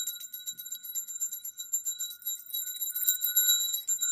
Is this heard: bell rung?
yes